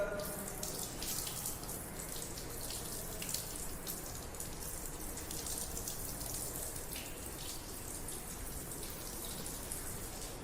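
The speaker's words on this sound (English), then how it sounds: "we have to pull this test tube under running tap water." Tap water runs steadily over a glass test tube holding a sulfuric acid mixture, cooling it in a lab sink. A continuous soft hiss and splatter, fairly quiet, with no voices.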